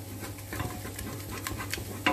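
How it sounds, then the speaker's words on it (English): A wooden spoon stirs a thickening roux and milk sauce in a pan, giving soft, irregular scraping and sloshing strokes at close range over a low steady hum, with one sharper clatter at the end. "keep stirring and it will stir the lumps out"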